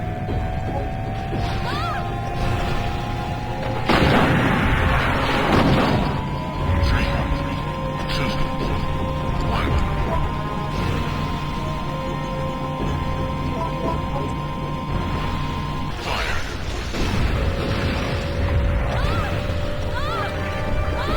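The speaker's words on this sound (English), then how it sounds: "I want to see the rocket hit" In Resident Evil 3, a rocket strikes and explodes with a loud crash and booming roar that rumbles on under droning game ambience, followed later by a second heavy impact.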